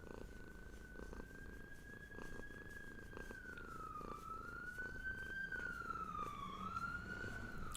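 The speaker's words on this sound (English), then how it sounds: "We have purring cats and ambulances going by." A passing ambulance siren rises and falls steadily in the distance, heard over a low, close, continuous cat's purring.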